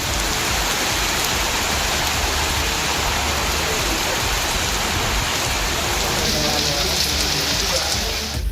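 Steady, loud rainfall in a Tamil Nadu district, a dense continuous hiss of drops on surfaces lasting throughout, with a news voice reading over it.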